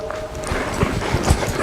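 A horse moves into a soft lope in its left lead, with rhythmic hoofbeats thudding close by on soft ground over a low background rumble.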